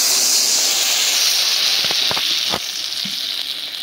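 Water hits shrimp frying in spices on a village clay stove, setting off a loud, steady sizzling hiss with a few short pops and crackles partway through.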